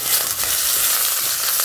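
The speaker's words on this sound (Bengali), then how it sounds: "সামান্য একটু হলুদ দিয়ে আলুটা ভেজে নিচ্ছি।" Potatoes frying in a pan with a pinch of turmeric give a steady, close hiss of sizzling oil with a few light scrapes, continuous and unbroken by talk.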